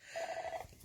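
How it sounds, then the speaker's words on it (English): An indoor telephone gives one short, faint electronic trill, a rapid pulsing tone lasting about half a second against quiet room sound. "that's the phone ringing"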